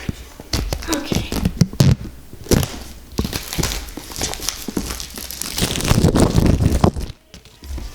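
Plastic wrapping is torn and crinkled off a new Eero 6 router, producing loud, close rustling and crackling in irregular bursts, with a voice speaking over it.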